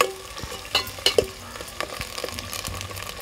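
Onions, green chilies and curry leaves fry in a pan with a steady close sizzle, broken by sharp spatula scrapes and clinks against the metal.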